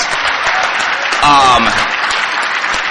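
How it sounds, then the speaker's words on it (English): Loud applause from a crowd, continuous clapping throughout with a brief voice or cheer rising partway through. "I want to give her a big round of applause."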